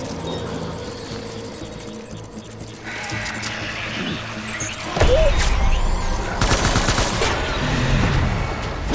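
Gunfire in the video game Death Stranding builds from scattered shots into heavy, loud volleys of rapid automatic fire and impacts in the second half.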